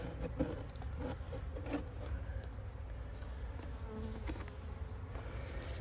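Many honey bees buzz steadily around a hive in a soft, continuous drone, with small swells as individual insects pass nearby.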